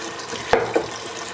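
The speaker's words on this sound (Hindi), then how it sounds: "ये पानी ड्राई हो रहा है और पालक भी अच्छी तरह फ्राई हो रहे हैं।" Spinach frying in a pan as its water cooks off gives a soft, steady sizzle, with two brief louder stirring scrapes in the middle.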